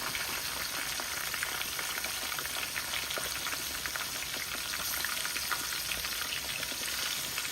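Jamaican-style fried chicken crackles in hot oil, giving a dense, steady sizzle with constant fine popping, close and unbroken throughout, with no voices.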